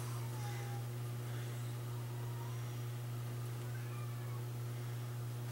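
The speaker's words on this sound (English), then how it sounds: "our cat, Tomcat outside's in heat" A tomcat in heat meows faintly from outside, a distant brief cry barely above a loud steady electrical hum in a workshop.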